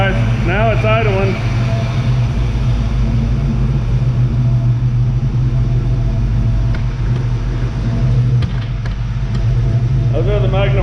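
A 1979 Pontiac Trans Am with an LS engine swap, running through MagnaFlow mufflers, idles with a steady low rumble throughout, while people talk nearby.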